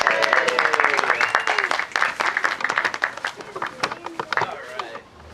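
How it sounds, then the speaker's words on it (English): An outdoor crowd at a permaculture day gathering applauds a speaker, with dense sharp handclaps and some cheering that gradually taper off toward the end. "Let's give him a round of applause"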